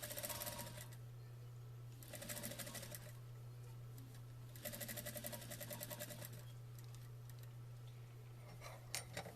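A sewing machine stitches across the edge of a corded pillow in quick bursts of rapid mechanical clatter, separated by short pauses over a steady low hum, close and fairly quiet.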